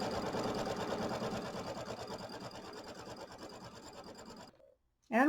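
An embroidery machine stitches a tack-down line on a quilted nativity bench pillow, a steady close rapid whirring hum that stops briefly near the end before starting up again.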